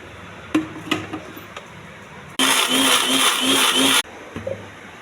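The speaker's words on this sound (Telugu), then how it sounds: "ముందుగా పల్లీలు టమాటా మిక్సీ వేసుకోవాలి మెత్తగా." A kitchen mixer grinder blends peanuts, tomato and coconut into a paste, a loud, harsh whirring burst of about a second and a half that starts and stops abruptly after a few quiet kitchen knocks.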